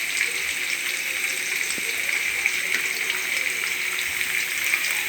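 Paneer cubes fry in hot oil, giving a steady, close, loud sizzle with a faint clink partway through.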